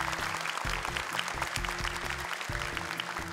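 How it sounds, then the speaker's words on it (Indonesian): Audience applause for two young Quran memorization contestants on a hafiz competition show, a steady wash of clapping over a low music bed, moderately loud and continuous without speech. "Boleh tepuk tangan semangat untuk keduanya."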